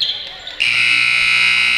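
A loud, steady electronic buzzer blares at the end of a period in a youth hockey game, starting abruptly partway in and holding a sustained tone under crowd and commentator chatter.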